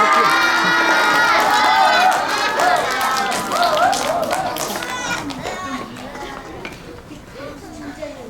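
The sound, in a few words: audience applauding and cheering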